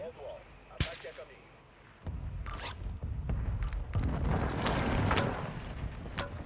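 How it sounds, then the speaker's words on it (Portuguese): Gunfire in the video game Call of Duty: Modern Warfare II, a sharp crack followed by a few duller shots and rumbling in-game ambience, moderately loud. "Tá dando tiro em mim?"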